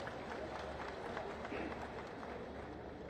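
Sustained applause from a large crowd at an outdoor farmers' agricultural event in Auraiya, steady and dense throughout with a murmur of voices underneath.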